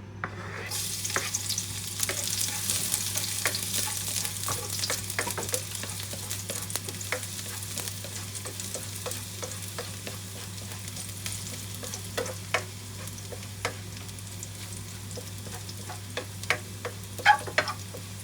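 Garlic sizzles steadily in a hot pan while a utensil stirs it, with scattered scraping ticks and clicks over a constant frying hiss, close and moderately loud.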